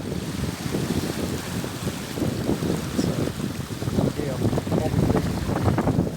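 Rushing water wake beside a Paradox sailboat moving fast under sail in strong wind, a steady loud wash and splash mixed with wind buffeting the microphone.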